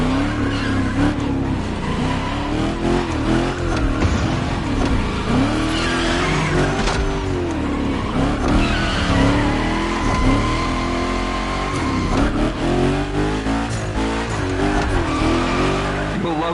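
The Hoonicorn, a rally-style car in The Crew Motorfest video game, screams through big gymkhana slides, its engine revving up and down while tires squeal loudly and repeatedly, with a voice talking underneath.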